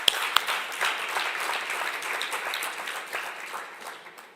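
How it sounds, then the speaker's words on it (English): Audience applause at a science centre's tenth anniversary celebration: dense clapping from a crowd holds steady, then gradually thins and softens toward the end, with a couple of sharp claps standing out near the start. "So let's give them a round of applause."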